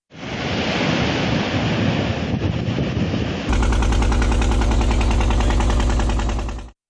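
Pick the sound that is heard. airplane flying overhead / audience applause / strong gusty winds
strong gusty winds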